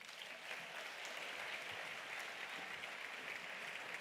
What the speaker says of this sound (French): Merci d'applaudir comme il se doit notre présidente de région